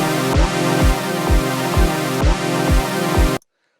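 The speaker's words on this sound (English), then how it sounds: "So now if we play our kick drum and our synth together, it sounds like this." Electronic kick drum thumping in a steady four-on-the-floor pulse under a loud sustained synth chord, dense and full, cutting off abruptly at the end.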